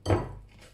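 The lid of a hot waffle maker is shut with a single short dull clunk and faint metallic ring, close by and brief.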